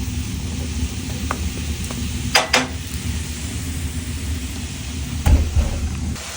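Food seasoned with turmeric sizzles softly as it caramelizes in a pan over a wood fire in a barn, a steady low frying hiss broken by a few clanks and knocks of utensils.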